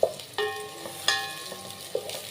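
Onions frying in oil in a home kitchen pan while beef with cabbage is cooked, giving a steady soft sizzle with a few sharper stirring clatters and scrapes, heard close with no talking.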